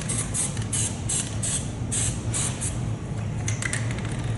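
Lubricant sprays in short repeated hissing bursts onto the jack stand of a Sno-Way snow plow, close and fairly loud over a low mechanical background hum.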